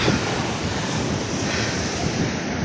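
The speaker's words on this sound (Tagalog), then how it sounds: "Ganda ng dagat dito sa LU." Sea waves wash steadily on a beach in La Union, a broad continuous roar of surf with wind buffeting the microphone, loud and close throughout with no talk.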